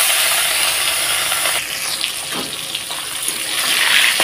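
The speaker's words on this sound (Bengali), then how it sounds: "এখন মাছগুলো ভেজে নেব ফটাফট।" Rohu fish pieces sizzle in a hot wok, a loud, close, continuous hiss of frying oil that dips slightly midway and swells again toward the end, with no voices.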